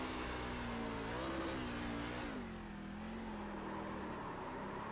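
Race car accelerating around the track at Miami-Homestead, a loud, steady engine roar with pitch rising and falling as it runs close along the wall, alone without talk.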